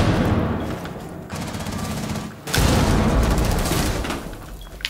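Rapid automatic gunfire in Rainbow Six Siege, loud and close, with sustained bursts broken by a short pause and then a heavier volley, no talk over it.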